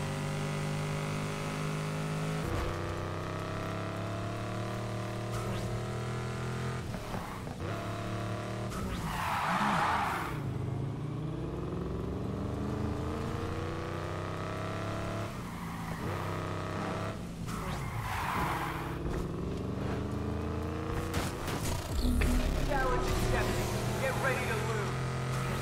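Racing cars in Need for Speed Heat roar steadily with engine drone and tire skids throughout, loud and continuous, with a voice talking over the action.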